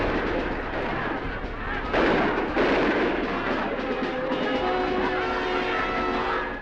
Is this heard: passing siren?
no